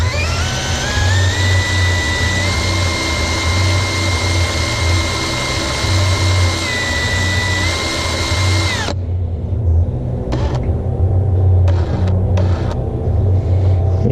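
Whining rotary tool runs steadily while steel wool polishes a powder-coated coin ring, a bright sustained drone that cuts off abruptly, followed by quieter scraping and brief bursts of buffing.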